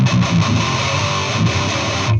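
Heavily distorted metal electric guitar run through a Manchester pedal, with a thick, continuous old-school 90s-style crunch that plays loud and alone with no voices.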